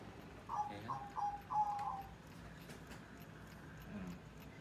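A zebra dove (perkutut) coos in a short rhythmic phrase of three or four soft, clear notes, fairly close, followed by quiet ambient background.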